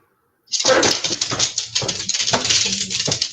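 A dog whimpers and whines close by in a run of high, wavering cries with short breaks, starting suddenly after a brief silence.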